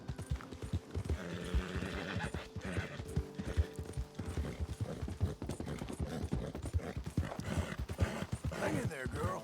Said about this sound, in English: Hopefully our horse don't freak out.